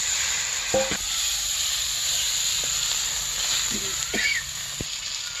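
Rohu fish head frying in a pan with ginger, garlic, onion and salt, a steady hiss of sizzling oil with a few brief clinks and stirring knocks over it, close and moderately loud, no talk.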